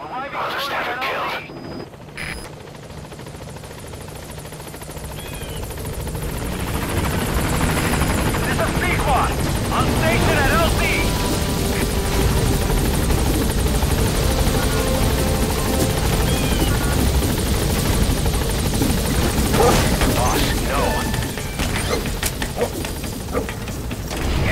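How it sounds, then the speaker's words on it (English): An extraction helicopter arrives in a shooter video game. Its rotor noise rises from moderate to a loud, sustained thrum as it draws near, with game voices talking over it. "I'll send the extraction chopper."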